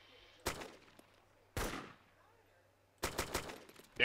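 An AK rifle in Arma 2 fires short automatic bursts, three sharp clusters of loud cracks separated by quiet pauses, with a fourth burst starting at the end.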